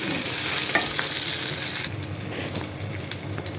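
Fried eggs tossed into a pan of fried ginger and garlic, stirred with a steady crackling sizzle throughout, the frying noise shifting and easing partway as the pan settles, with no talking.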